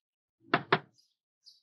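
Two quick, firm knocks rap on a door, close and clear, followed by near silence with a faint chirp.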